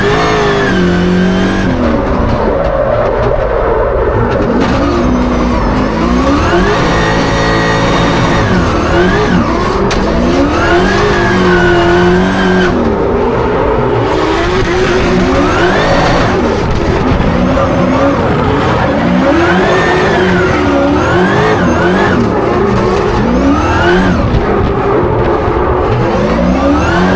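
A car hauler bus drives laps on a race track, its engine loud and close, revving up and down through gear changes over a constant road and wind roar.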